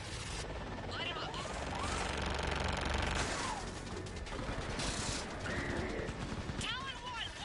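Talon gunships in the Mass Effect 3 video game open fire in rapid, sustained bursts of automatic gunfire over a dense battle din, loud and continuous with brief swells and dips.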